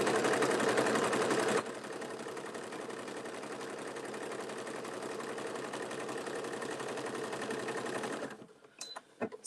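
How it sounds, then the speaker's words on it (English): A sewing machine stitches with a steady, close mechanical whir, louder for the first moment and then a constant running drone, stopping near the end with a few small clicks and knocks. "Hopefully it's not too loud with me sewing."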